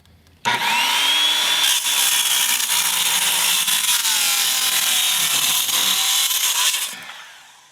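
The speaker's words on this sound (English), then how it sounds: "we were cutting through a little bit of knots in this board" A Hitachi circular saw cuts through a knotty wood board, a loud, close whine that starts abruptly, holds a strained steady pitch as it bogs slightly through the knots, then spins down at the end, with no talk.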